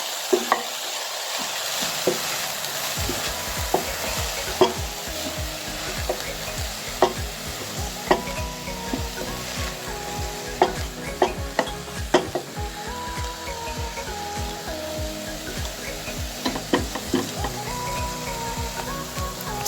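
A banana flower fry is stirred in a pan, with constant sizzling and repeated scraping and clinking of a spoon against the pan in an irregular rhythm, close and loud with no talking.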